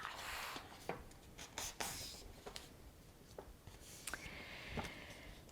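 Piece of orange paper being folded in half, giving soft crinkling and rubbing sounds with a few crisp creasing snaps, close and fairly quiet, with a voice faintly present.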